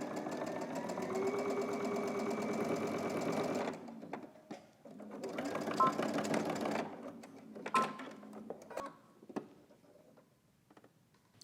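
A sewing machine stitches binding onto a tank top from Simplicity pattern 9931, running in a steady close whir for about four seconds, pausing, then running a second shorter burst before scattered clicks and fabric handling.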